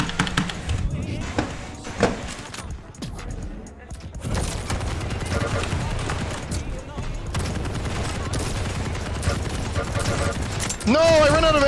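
Quake team deathmatch gunfire, rapid bursts of weapon shots and explosive booms crowding a busy mix, with a player talking over the action and a rising electronic tone near the end.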